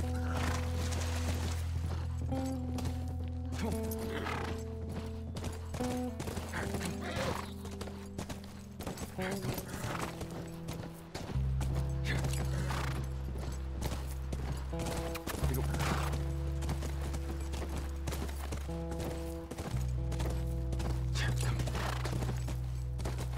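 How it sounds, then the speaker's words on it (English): Steady hoofbeats clip-clop over a continuous musical score in The Last of Us Remastered, with an occasional whinny and brief voices breaking in. "That's our horse."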